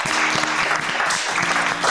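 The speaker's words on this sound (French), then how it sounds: "on peut les applaudir bien fort s'il vous plaît" Game show audience applauds for the leading team, a brief, bright burst of steady clapping heard close and loud, with a faint underlying murmur or music tone.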